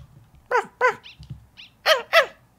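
A cartoonish dog barks in the Undertale video game, four sharp yips in two quick pairs, loud and close with brief squeaky blips between them and no talk.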